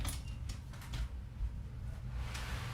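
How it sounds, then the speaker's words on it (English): A door is pushed shut indoors, with a few soft knocks and clicks over a steady low rumble of room noise. "Let me shut my door"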